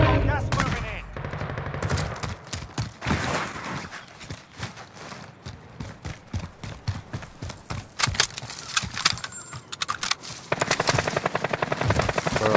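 Video game gunfire cracks out in dense repeated bursts, near and loud, with rapid automatic fire toward the end and players talking over it.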